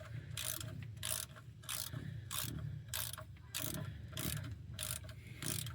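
A ratchet wrench clicks in steady repeated bursts, about a dozen strokes, while working on a 1997 Ford F250 HD transmission; quiet and close, with no talking.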